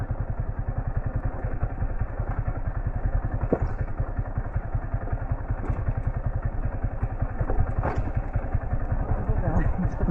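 A motorcycle ridden on a rough off-road trail near Godawari Marble Danda, its engine thumping in a fast steady pulse with occasional clatter and jolts, close and continuous, with a rider talking over it.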